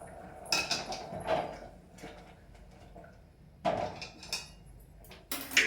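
Metal kitchen dishes being stacked and put away, giving several separate clinks and knocks with quiet gaps between them and a sharper clatter at the end, close by and with no talking.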